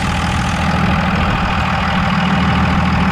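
A 24-valve diesel with a VP44 injection pump, just restarted and misfiring on three cylinders, idles loud and close with a rough, uneven low rumble and knock that runs steadily throughout without any speech.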